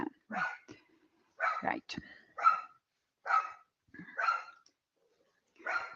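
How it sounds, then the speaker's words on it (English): Several dogs bark in short repeated bursts at moderate distance, with a brief spoken word among the barks. "my dogs are barking"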